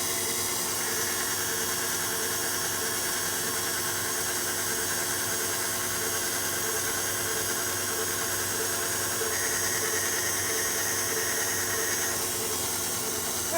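A stand mixer whips gelatin at medium-low speed while maple syrup is drizzled in, giving a steady motor whir with a constant high whine, close and unchanging, with no talking.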